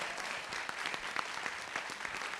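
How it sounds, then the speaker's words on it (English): Audience applause for an author at a book talk, sustained clapping from a seated crowd, even and moderately loud throughout, with distinct individual claps standing out now and then. "Let's have a round of applause for Nikki Erlick."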